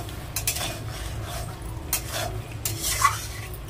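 Water spinach and potato chochori is stirred in a pan, the spoon scraping in several quick strokes over a soft sizzle of oil, close and fairly quiet.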